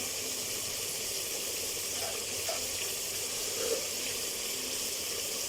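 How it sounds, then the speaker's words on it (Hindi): Water is poured into a pot of mutton korma whose masala has been fried in ghee, making a steady, soft gushing hiss with faint sizzling pops beneath it. "अब हम इसमें पानी ऐड करेंगे।"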